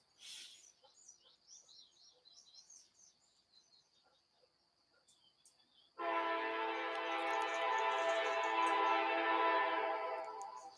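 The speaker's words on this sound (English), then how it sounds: "And let our train pass by." Birds chirp faintly over quiet surroundings, then a train horn blares loudly at mid-distance, holding a long sustained chord for several seconds before easing off slightly at the end.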